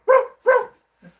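Two short, close dog barks in quick succession from a recording of Jingle Bells are followed by a faint third yip.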